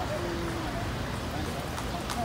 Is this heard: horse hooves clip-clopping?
yes